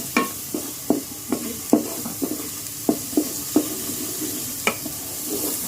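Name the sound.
tikka spice paste being stirred and fried in a pan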